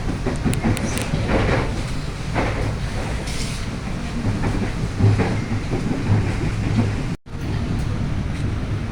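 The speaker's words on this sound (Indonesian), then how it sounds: "kereta mulai diberangkatkan dari stasiun Gang Sentiong menuju stasiun Pasar Senen" A KRL commuter train pulls out of Gang Sentiong station toward Pasar Senen, a steady loud rumble with rhythmic clatter of wheels on rail joints and a faint hiss, continuous throughout with one brief dropout near the end.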